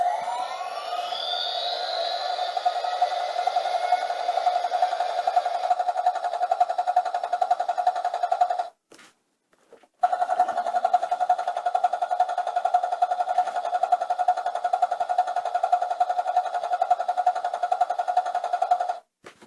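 A Tonka Wobble Wheels toy helicopter plays electronic button sounds: a steady, tinny siren-like tone with a swooping start, cut by a short pause before resuming, close and fairly quiet.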